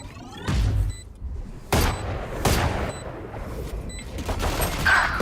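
Valorant gunfire and explosive blasts during a competitive match, a sequence of loud sharp bursts and booms spaced about a second apart over game effects, close and punchy.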